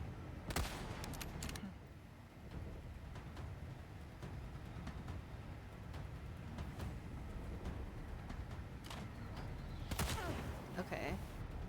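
A rifle fires in the Resident Evil video game as Ada Wong, with sharp shots and short bursts scattered across the stretch, the loudest clusters near the start and toward the end, over steady game background and a talking voice.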